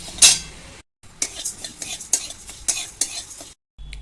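Dry jowar grains being roasted in a pan over a low gas flame, with a spoon stirring and scraping in bursts of clinks and rustles and brief pauses between strokes.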